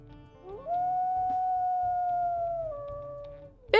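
A single wolf in a video game lets out one long, fairly high-pitched howl that rises, holds steady and then tapers off, clear and close over faint background sounds.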